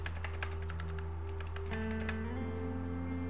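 Quick keystrokes tap a password on a computer keyboard, a burst of close, crisp clicks that pauses and resumes over a quiet room hum.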